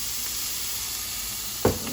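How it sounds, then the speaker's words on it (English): Shrimp and butternut squash sizzling together in a pan, a steady close hiss of frying that runs throughout, with a sharp clank from a utensil or pan near the end. "So you got shrimp and butternut squash cooking right in the same pan."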